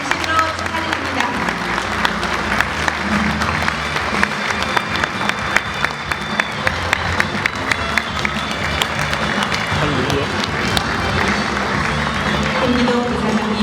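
An audience at a national maritime award ceremony in Korea gives dense, sustained applause as the award winner is welcomed to the stage. The clapping is loud and continuous, mixed with some crowd noise and voices.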